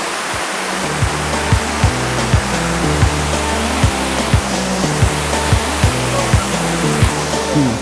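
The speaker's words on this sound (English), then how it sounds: "I thought it might be a good idea to get as close to the falling water as possible" Loud, close waterfall crashing onto slippery rocks, a dense continuous roar with rhythmic low thumps recurring roughly every second underneath.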